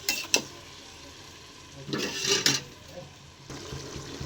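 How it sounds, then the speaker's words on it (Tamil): Tomatoes sautéing with onions in a pan, a quiet sizzle broken by a few bursts of stirring and scraping, with louder hisses in the middle, close by. "தக்காளி சேர்த்து கொஞ்சம் வதக்கி விடுவோம்"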